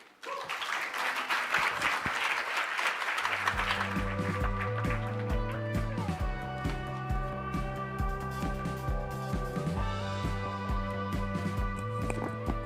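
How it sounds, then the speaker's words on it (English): Conference audience applauding at the closing session of an equitable education event, a broad steady wash of clapping that soon sits under sustained music or tones through the rest of the stretch. "A big round of applause again, please"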